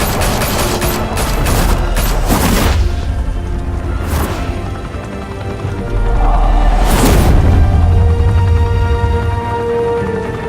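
A heavy burst of rapid gunfire in a Batman video game rattles off in dense volleys, loud and close, with booming impacts and a lull before a second strong wave of shots.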